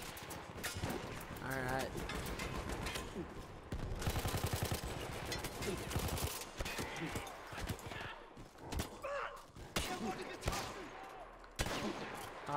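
Machine gun fire in the World War I shooter Battlefield 1, sustained bursts with sharp reports across the whole stretch, loud and close, with a brief voice speaking over it.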